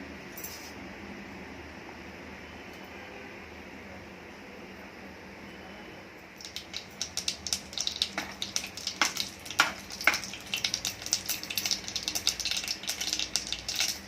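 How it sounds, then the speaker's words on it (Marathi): Mustard seeds hit hot ghee in a heated pot for a moong dal tempering. After a quiet, steady background, a dense run of sharp, close crackles and pops breaks out and keeps going. "मोहरी पूर्ण तडतडल्याशिवाय लसूण टाकायचं नाही"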